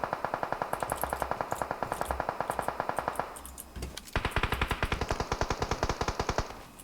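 Rapid automatic gunfire in the mobile battle-royale game PUBG Mobile, loud continuous bursts of evenly spaced shots that pause briefly near the middle, then resume with a brighter, sharper tone.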